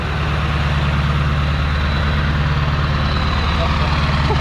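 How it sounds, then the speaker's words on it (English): A deep, steady 7.3 diesel engine in a Ford Super Duty idling fast close by, with a throbbing low exhaust rumble, turbo whistle and a constant hissy roar. "you gotta hear the exhaust out the back with the high idle"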